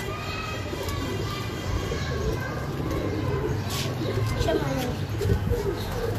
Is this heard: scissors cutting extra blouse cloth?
no